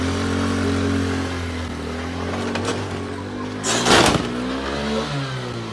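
A stolen moped engine idles with a steady mid-pitched drone, then revs up sharply for a moment before settling back, heard close and loud outdoors.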